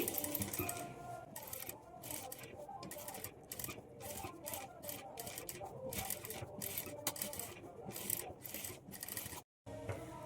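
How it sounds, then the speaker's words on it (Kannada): A sewing machine runs top stitching along the edge of a cut-work sleeve, its needle chattering in quick rhythmic bursts with brief pauses throughout, close and steady, with a short silent gap near the end. "ಈ ಥರ ಎಡ್ಜಿಗೆ ಸ್ಟಿಚ್ ಮಾಡ್ಕೊಳ್ಳಿ"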